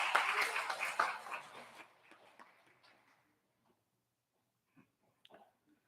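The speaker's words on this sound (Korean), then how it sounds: "박수하겠습니다" A church congregation applauding during a Sunday morning service, a brief burst of many hands clapping that tapers off over about three seconds into near silence with a few faint knocks.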